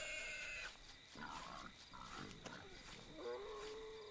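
Wild boar grunt and squeal in an alien-hunting video game, a few low grunts and a rising squeal that sound faint and distant against a quiet ambient background.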